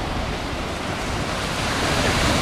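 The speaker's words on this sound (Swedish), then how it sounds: "Hör ni vad vågorna kluckar" Lake or sea waves wash steadily against the shore where people are taking their first swim of the season, a continuous broad rushing wash with no voices.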